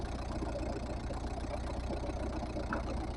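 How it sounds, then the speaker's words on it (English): A car engine idles steadily with a low, rough rumble and faint knocking texture, its note shifting slightly over a few seconds, close by with no talking. "even the engine note changes."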